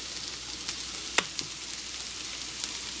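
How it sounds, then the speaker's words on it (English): Sausage hits a hot pot for chicken bog and sizzles, a steady frying hiss with a few sharp crackles and spits, close and without talk. "you're going to want to add in your sausage"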